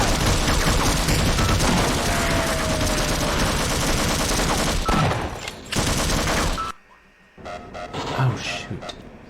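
Rapid, loud shotgun and weapon fire from Half-Life fills most of the stretch as a dense barrage, then breaks off into quieter gaps with a few scattered shots and a voice talking.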